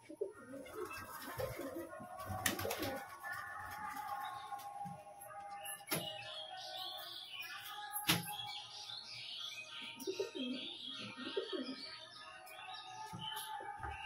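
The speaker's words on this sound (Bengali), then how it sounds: "এই যে বন্ধুরা, আপনারা দেখুন, এই যে এই পায়রাটা, নর পায়রাটা দেখুন, সবুজ কালারের লাল বর্ডারের নর পায়রা।" Male pigeon with green plumage and a red border cooing nearby, with soft repeated coos and chirps among a few knocks and faint background voices.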